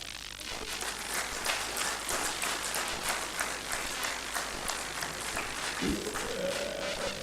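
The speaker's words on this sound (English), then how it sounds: "So give your lecturer a moral hand of clap." An audience at a World Environment Day lecture at Igbinedion University in Okada claps for the lecturer: steady, dense applause held at an even level throughout, with no voices over it.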